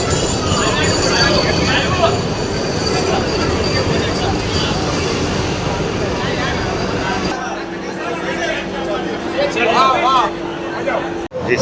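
Vande Bharat train at Anand railway station in Gujarat, a steady loud rumble of rolling stock with crowd noise over it during a stoppage-flagging event, easing after a few seconds into a lower hum with a sustained tone and brief squeals.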